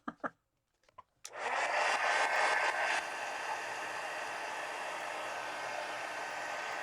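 After a few faint clicks, a heat gun switches on and blows hot air in a loud, steady roar, then drops to a slightly lower setting and keeps whooshing evenly to the end.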